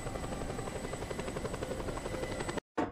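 A helicopter in the video game Just Cause 2 flies with a loud, continuous rotor chop and whine that holds steady until the sound cuts out abruptly near the end.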